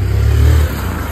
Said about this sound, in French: Toujours la moto qui passe.